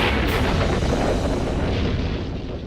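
A loud, sustained roaring rumble from a massive atomic bomb explosion, broadband and continuous, slowly fading toward the end.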